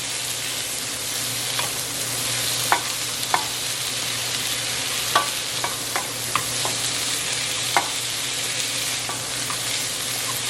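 Onion, poblano chile and garlic tossed in a hot pan, a steady frying sizzle with scattered clicks and taps of stirring, close and fairly loud with no talking.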